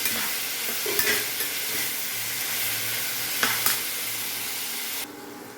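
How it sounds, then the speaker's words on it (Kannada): Tempering spices sizzle in a pan for a bottle gourd curry, a steady close frying hiss with a few sharp stirring scrapes, cutting to quieter sound near the end. "ಇದು ಸ್ವಲ್ಪ ಒಗ್ಗರಣೆ ಹತ್ತಬೇಕಲ್ಲ, ಅದಕ್ಕೆ ಹಾಕ್ತೀನಿ"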